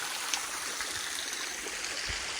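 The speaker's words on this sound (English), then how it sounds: "All the water coming off that spring up there" Spring-fed water runs down a rocky stream near a large waterfall, making a steady, close rushing and trickling sound with no voices.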